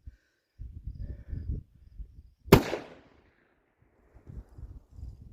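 A single close, sharp gunshot from a .45 Colt single action revolver firing a heavy load over a chronograph cracks loudly and then decays, between quiet outdoor rustling and faint background sounds.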